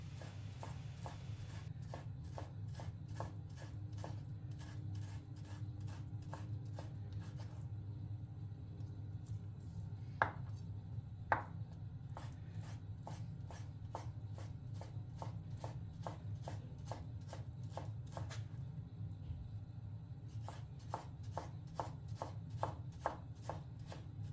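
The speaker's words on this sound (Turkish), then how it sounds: "Doğrama işlemini devam ettiriyoruz." A knife chops chicken breast steadily on a cutting board in a fast, even rhythm, with a low rumbling background hum throughout.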